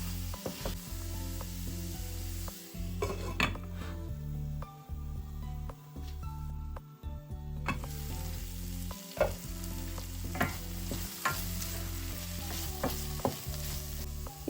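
Sundakkai (turkey berry) fry is stirred with masala in a pan, making a continuous close sizzle broken by repeated scraping stirs and brief quieter gaps.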